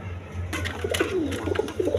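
Pigeons coo at a breeding farm, several soft rolling calls following one another near the microphone over a low, steady hum.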